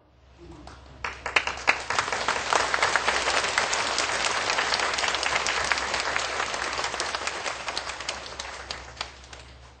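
An audience at a formal event with distinguished guests bursts into applause after a scattered start, building to full, dense clapping that holds steady and then slowly tapers off.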